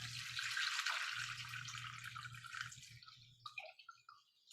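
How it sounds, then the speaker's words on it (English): A kombucha mix of vinegar, water, sugar and tea is poured into a fermenting vessel with a steady splashing stream that tapers off into a few drips near the end. "And then we just move our whole mix of vinegar, water, sugar, and tea into the fermenting vessel that we're going to use."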